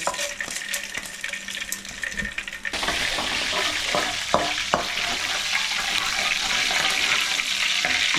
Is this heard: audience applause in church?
no